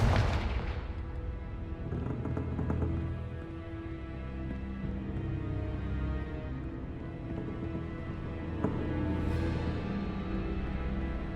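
In the Hogwarts Legacy video game, a Confringo blasting spell goes off as a heavy booming explosion that opens the clip, then fades into a long, deep rumbling tail with a few faint crackles later on.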